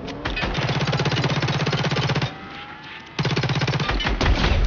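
Rapid automatic gunfire in the video game Fortnite, two long sustained bursts of fast, loud, close shots separated by a brief near-silent pause.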